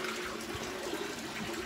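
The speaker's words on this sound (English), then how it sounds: "it comes into this barrel, which it just kind of swirls around, kind of filters itself" Water swirling and churning inside an aquaponics filter barrel in a greenhouse, a steady, close, continuous watery rush with no talk over it.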